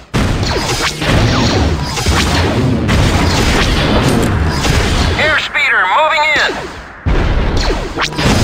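Blaster cannon fire and explosions in the Star Wars Galactic Battlegrounds strategy game, a dense, loud barrage of booms and crashes with a short lull and warbling tones, joined by voiced game dialogue.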